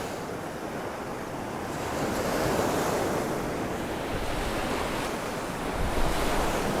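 Ocean surf rolls and breaks on a beach during surf fishing over sandbars, making a continuous loud wash with wind buffeting the microphone and a slight swell near the end.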